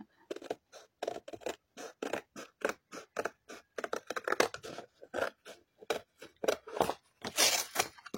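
Scissors cutting decorative paper for an embroidery-hoop craft, a steady run of roughly twenty crisp, close snips with a sharper papery crunch near the end.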